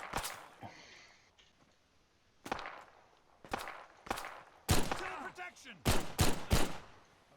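Gunfire from an Arma 3 Half-Life mod rings out in sharp, loud bursts, single cracks early and then rapid clustered shots, close and punchy with quiet gaps between.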